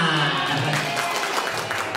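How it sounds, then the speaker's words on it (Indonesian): A live audience at an Indonesian classroom or teaching event breaks into a wash of applause, moderately loud and steady for a couple of seconds, with a voice faintly audible underneath. "amin, tepuk tangan."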